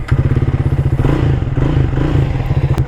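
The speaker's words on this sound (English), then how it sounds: "Let's listen to the exhaust sound." A Triumph Speed 400 motorcycle's exhaust thumps loud and close in a fast, steady pulse with slight swells in revs, and no voices.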